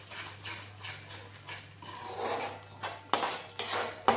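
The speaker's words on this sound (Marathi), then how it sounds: "छान मी मिक्स करून घेते मसाला" A spatula stirring and scraping cashew-curry masala paste in a pan, soft rhythmic rubbing strokes followed by a few sharper metallic scrapes and knocks, close up, with no talking.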